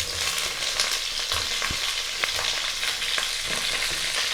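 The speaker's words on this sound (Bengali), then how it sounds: "আলু আর ফুলকপিটা একটু ভাজা ভাজা করে নেব" Pieces of potato and cauliflower fry in a pan of spiced oil with turmeric and salt, producing a constant close, bright sizzle dotted with small pops and occasional stirring scrapes, no voices.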